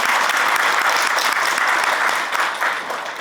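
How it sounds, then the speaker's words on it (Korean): An audience at a National Assembly forum on patient safety education gives steady, dense applause that holds strong, then tapers slightly toward the end. "오늘 의료기관 평가인증원 임영진 원장님께서 바쁘신 중에도 왕래해 주셔서 자리를 빛내주셨습니다. 감사의 박수 부탁드립니다."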